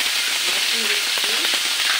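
Garlic dropping into hot cooking oil fries with a steady, broad sizzle that runs loud and close throughout, with faint voice-like tones drifting through in the middle.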